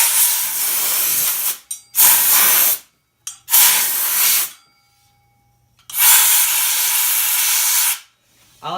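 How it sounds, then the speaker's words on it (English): A typical hose-fed compressed air gun blasts dust out of snowmobile clutches and around the spring in four loud, close hissing bursts of a second or two each, separated by near-silent pauses. "For this part, I like to use an air gun, just your typical air gun, hooks to a hose"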